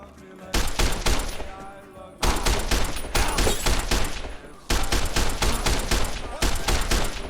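Rapid automatic gunfire in Fallout: New Vegas, from a gun in terrible condition, rings out loud and close in three long sustained bursts split by brief pauses.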